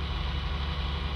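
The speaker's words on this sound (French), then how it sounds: "je vais couper le moteur" A tractor engine idles close by in a steady low rumble, its even throb holding through the whole moment with no voices over it.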